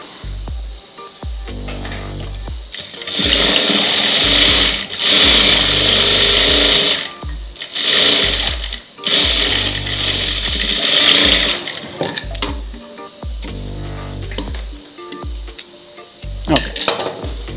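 A sewing machine stitches a blouse in loud bursts of rapid mechanical whirring, separated by short pauses, with brief clatters near the end.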